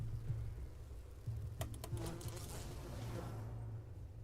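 Bees buzzing in the video game Enshrouded, a steady low drone throughout, broken midway by several sharp clicking hits and bursts of noise.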